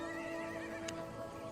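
A riding horse in a video game gives a short, clear neigh with a wavering whinny, heard alone and fairly close, with a faint soft tick near the end.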